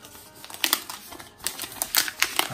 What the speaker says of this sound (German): Machen wir hier die Folie runter.